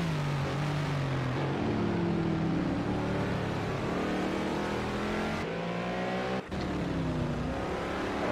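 GT3 race cars, including a McLaren and a Ferrari, roar around Azure Circuit in Project Cars 2, with loud continuous engine whine rising and falling through gear changes and revving, close and sustained.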